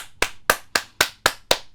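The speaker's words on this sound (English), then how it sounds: "Round of applause." Seven sharp, evenly spaced hand claps ring out close by, a steady rhythm of about four per second with nothing else heard.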